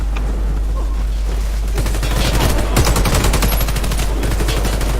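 Rapid bursts of gunfire from a video game shooter, dense and loud, with volleys of shots clustered together and a constant low hum underneath.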